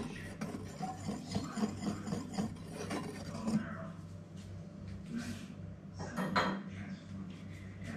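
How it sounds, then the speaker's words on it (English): Spelt flour being stirred into sourdough in a bowl makes a steady scraping and rubbing, with utensil scrapes repeating at close range and no voices. "Kemudian masukkan 120 gram spelt flour. Lepas tu mixkan dia."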